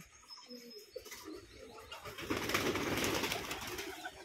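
Pigeons coo and flutter at a pigeon farm in Keshabpur, Jessore, a dense chorus of soft calls close by with some wing flapping.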